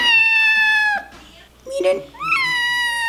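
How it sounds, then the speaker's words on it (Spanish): A young adopted kitten meows loudly and close up in long drawn-out cries, three in all, with a short spoken word in between. "Este gatito lo adoptamos hace un par, como un mes y medio."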